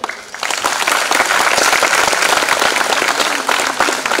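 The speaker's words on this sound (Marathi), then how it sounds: "तर मुलींचा एकदा फक्त जोरदार टाळ्या होऊन जाऊ दे" An audience at a college first-year induction program bursts into loud, sustained applause, dense clapping from a large crowd filling the hall for several seconds.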